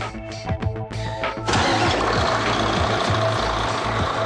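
A truck engine with a PowerShift 2 transmission cranks briefly with uneven starter chugs, then catches and settles into a loud, steady idle rumble, running close by.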